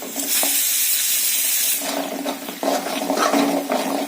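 Water splashes and hisses steadily into a hot pan of spice masala for a couple of seconds, then softer stirring and bubbling noises follow, close by.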